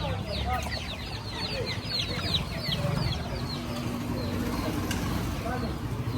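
Chicks and chickens clucking and peeping in rapid overlapping chirps above a busy, noisy street setting in La Vega, Colombia, with people talking nearby.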